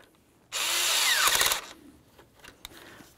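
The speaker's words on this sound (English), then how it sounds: "After that, tighten the clamp." A power tool whirs in one short burst of about a second while tightening the upper radiator hose clamp on a 2004-2015 Nissan Titan, followed by a few faint clicks and handling noises.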